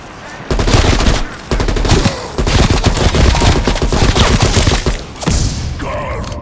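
Assault rifle fire in Call of Duty: Cold War Zombies, with several loud sustained automatic bursts of rapid shots separated by short gaps. The fire is close and dominant.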